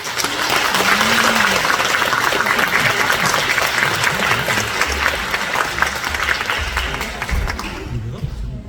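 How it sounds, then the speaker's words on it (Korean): Warm, sustained applause from a lecture audience welcoming a dermatologist guest speaker, dense clapping close by for most of the stretch and fading toward the end, with voices underneath. "뜨거운 박수로 환영해 주시기 바랍니다"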